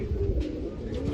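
Golden pigeons at a dairy farm in Nashik, Maharashtra coo steadily in low, soft throaty calls, with a constant murmur of other birds nearby.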